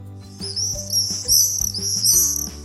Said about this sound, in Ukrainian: Так, це ластівка, і вона є перелітною.